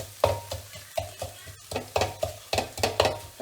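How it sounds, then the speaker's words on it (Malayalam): Tomato and onion sautéing in a pan, a brisk rhythmic series of spatula scrapes and knocks, roughly three per second, over a low sizzle, close and clear. "നന്നായിട്ട് വഴണ്ട് ഇപ്പൊ തക്കാളിയും ഉള്ളി എല്ലാം കൂടെ യോജിച്ചു കണ്ടില്ലേ"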